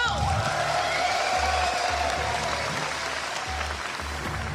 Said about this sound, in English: Let's give a big round of applause, Kylian Drummond.